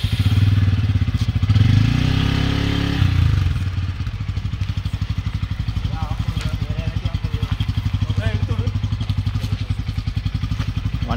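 Motorcycle engine idling and revving up close, a steady low throb with clatter as it pulls away, with voices talking over it.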